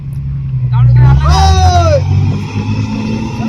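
A flash butt rail welding machine vehicle slowly hauls a length of rail on a new railway line, its engine droning and rumbling steadily beneath continuous talking.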